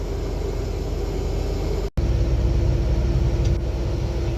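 A Case IH Axial Flow combine harvesting soybeans gives off a loud, steady rumbling drone, broken by a brief dropout midway before resuming just as strongly.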